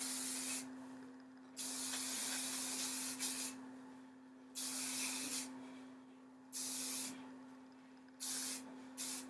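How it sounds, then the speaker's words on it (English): Repeated bursts of aerosol spray hiss in short pulses of one to two seconds, with pauses between, over a steady low hum. "you just spray it all over in your hair lightly."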